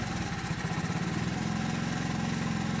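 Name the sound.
small engine idling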